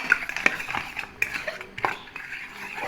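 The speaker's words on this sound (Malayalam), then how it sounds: "നല്ലതുപോലെ സ്പൂൺ വെച്ച് ഇതുപോലെ ബീറ്റ് ചെയ്തെടുക്കാം" Eggs beaten briskly with a spoon in a bowl while cooking Kerala-style nadan curry, a quick irregular clinking and tapping of metal against the dish, close and clear.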